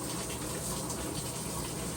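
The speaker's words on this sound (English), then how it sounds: "turn the dial clockwise, one dial or 1 click, and then it's gonna start filling with water." A Maytag washer showing an F70 error code, filling with water: a faint, continuous rush of flowing water with a steady hiss and no pauses, heard alone without talk.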